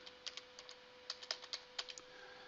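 Typing on a computer keyboard while entering text: about a dozen light, irregular keystroke clicks over a couple of seconds, close and fairly quiet, with a faint steady hum underneath and no talking.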